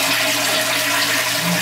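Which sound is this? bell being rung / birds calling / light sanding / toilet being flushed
toilet being flushed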